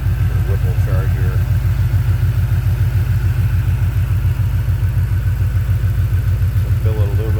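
The Whipple-supercharged engine of a 2010 Ford Mustang GT idles close by, giving a loud, steady, even low throb with a rapid regular pulse. Brief faint rattles sit above it.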